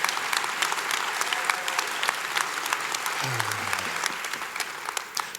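Sustained applause from a graduation ceremony crowd, a dense even wash of clapping that holds steady throughout, with a brief low voice murmur partway through.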